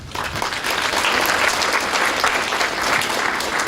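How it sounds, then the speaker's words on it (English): Audience applause after a speaker's presentation at a training event with a panel, a dense, steady wash of clapping from a sizable crowd that holds loud and even throughout. "Everybody give another round of applause for her great presentation."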